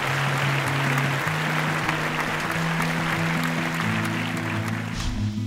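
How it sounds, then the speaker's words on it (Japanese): Audience applause greets a director and cast taking the stage at a Shinya Shokudo event, a steady dense wash of clapping throughout with sustained musical tones running underneath. "どうぞ大きな拍手でお迎えください。"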